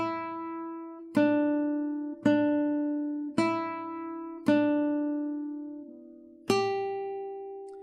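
Guitar plays the closing two bars of the Jingle Bells melody: six single plucked notes, clean and close, each ringing and fading before the next, the last one higher and held.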